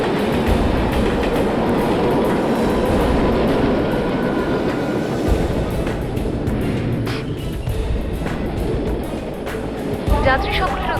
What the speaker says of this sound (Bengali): 5 নম্বর প্ল্যাটফর্ম থেকে আর কিছুক্ষণের মধ্যে একটি থ্রু ট্রেন পাস করবে